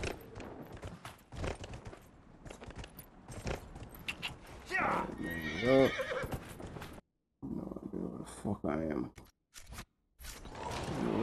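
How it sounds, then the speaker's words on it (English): A horse in the video game Dragon Age Inquisition whinnies loudly amid busy clip-clopping hooves and other game noise, with short silent breaks and talk mixed in. "This time the horse just showed up out of nowhere."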